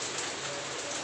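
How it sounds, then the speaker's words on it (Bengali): Steady rain falling outside during a long day of rain, a constant even hiss of drops with no pauses, fairly close and alone with no voices. "সেই সকাল থেকে শুরু হয়েছে, বৃষ্টির থামার শেষ নেই।"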